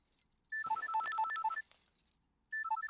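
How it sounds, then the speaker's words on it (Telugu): A phone rings in an electronic ringtone pattern of bright repeating beeps, one burst lasting about a second, then a pause and a second burst starting, with no talking over it. "ఫోన్ చూడు"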